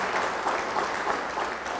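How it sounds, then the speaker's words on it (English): Banquet guests at an educational foundation fundraiser applaud, a soft, continuous, evenly textured patter of many hands from a room-sized crowd. "give yourself a round of applause for this wonderful cause"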